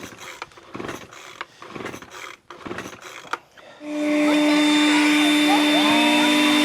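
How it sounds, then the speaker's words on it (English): A gas-powered leaf blower starts up after a stretch of quieter handling sounds, then roars loud and steady with a constant engine whine, close by and dominating the scene. "let's check in on the gas blower"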